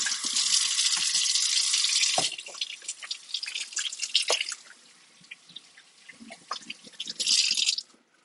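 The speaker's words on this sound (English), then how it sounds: "I always got to make sure you get started off washing your hands." Hands washed under a running tap, a steady loud water stream that cuts off after two seconds, then scattered drips, splashes and rubbing, with another brief gush of water near the end; close, no talk.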